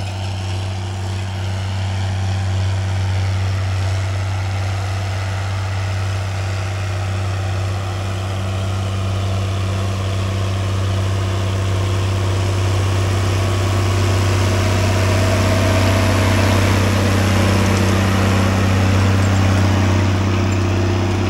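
A diesel tractor pulling a John Deere 7000 corn planter through a field drones steadily with a deep, constant engine hum and low harmonic tones, slowly building in loudness, with no talking.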